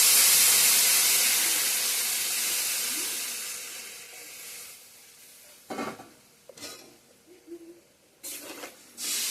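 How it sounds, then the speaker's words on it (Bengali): Water poured into a pan of frying soybean and potato curry, a loud sizzling hiss that gradually fades, followed by a few sharp clatters of a pot or utensil. "জল দিয়ে দিলাম"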